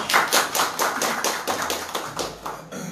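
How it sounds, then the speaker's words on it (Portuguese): An audience at a film festival debate applauds a guest being introduced, giving a brisk run of evenly spaced claps that fades out after a few seconds. "Uma salva de palmas"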